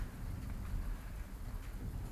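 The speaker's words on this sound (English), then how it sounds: "You might hear a lot of thunder at the moment." Rain falling as a big storm moves in, a constant dense patter at moderate distance with low thunder rumbling underneath, fairly quiet and without talk.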